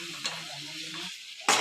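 Chicken frying in a new kadai sizzles steadily while being stirred, with a soft scrape near the start and a louder burst of sizzling at the end.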